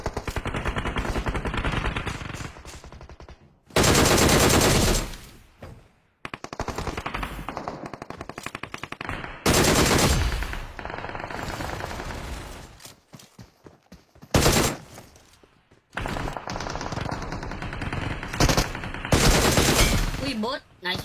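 Bursts of rapid automatic gunfire from a red gun in a swordsman-themed shooter video game rattle loudly in several long volleys, separated by a player's excited talk.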